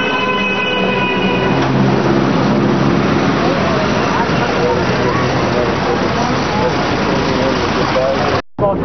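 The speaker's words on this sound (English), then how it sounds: "We're right next to an elevated train station." Train passing through an elevated railway station in Mumbai: a loud, continuous rumble of wheels and carriages with tonal squeals early on and some voices mixed in, cutting off abruptly near the end.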